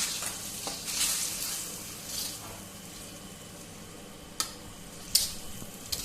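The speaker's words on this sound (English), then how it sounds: "Now this masala I need to fry very well till the oil separates" Tomato paste and spice powders frying in oil for a Bengali chicken curry masala, a soft sizzle punctuated by occasional stirring scrapes and clinks.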